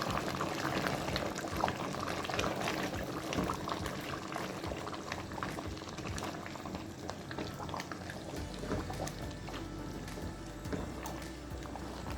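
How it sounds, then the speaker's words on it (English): Edo black soup with bitter leaf bubbles steadily in a pot, a close, continuous boil with soft popping and gurgling that runs the whole length without speech. "let it boil for 2 minutes"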